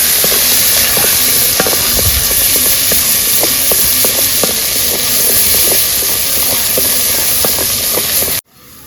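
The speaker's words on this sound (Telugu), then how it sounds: "బాగా బ్రౌన్ కలర్ వచ్చే వరకు వేగాలి" Andhra-style country chicken curry fries in a pan until brown, a steady loud sizzle with scattered spoon scrapes and stirring clicks throughout, cutting off abruptly near the end.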